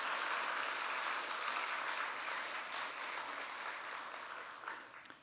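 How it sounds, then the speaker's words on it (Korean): A church congregation claps during a pastor's installation thanksgiving service in the main sanctuary, with broad, sustained applause that slowly fades toward the end. "우리 하나님께 큰 영광의 박수 한 번 더 올려드립니다."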